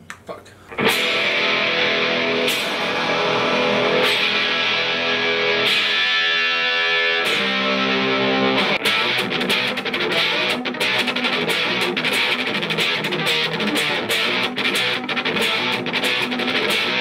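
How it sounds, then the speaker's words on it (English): An electric guitar plays through distortion and effects, starting with sustained ringing chords and moving into faster strummed and picked passages, loud and close, with no one talking. "let's try and track a little bit of guitar for the song I've been working on"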